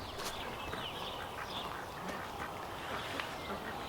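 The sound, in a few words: ducks quacking in the garden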